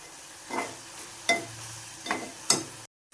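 Chopped onion greens and kokum are stirred in a sizzling pan, four distinct scraping strokes of a spoon rising over a low, steady fry, close and alone.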